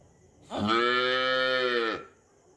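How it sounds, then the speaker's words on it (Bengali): A cow gives one long, loud, sustained moo, rich and resonant, rising in quickly and holding steady before cutting off, close and alone against a quiet background. "গরু বাছুর দাঁড়িয়ে আছে"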